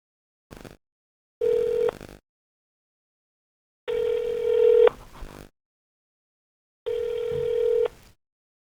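A telephone call placed to a lawmaker's office: a short dial tone blip, then repeated ringback tones in steady bursts separated by silence, clear and close with no talking.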